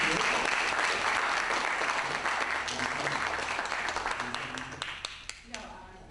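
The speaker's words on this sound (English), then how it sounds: "Let's give her a hand clap for Betty Jean." An audience applauds a county chair at a public political forum, a dense, steady round of clapping that slowly thins and tapers toward the end.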